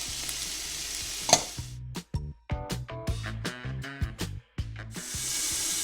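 Diced green pepper cooks in a pan for Walt's chili, a hissing sizzle broken up by a series of sharp scraping and stirring knocks, fairly close, with no talk.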